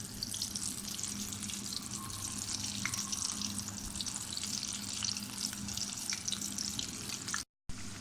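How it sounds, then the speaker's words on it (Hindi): Pakoras fry in hot oil for kadhi pakora, a continuous, even crackling sizzle heard close up for several seconds, with a brief dropout near the end. "अब साथ साथ यहाँ पे पकोड़े फ्राई कर लेते हैं।"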